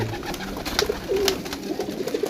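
Pigeons coo on a rooftop loft, soft repeated throaty calls near at hand with a steady low murmur of the flock underneath.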